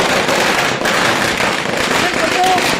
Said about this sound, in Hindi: ढोल लगाने के साथ पटाखे जला करके जीत का जश्न कांग्रेस भवन में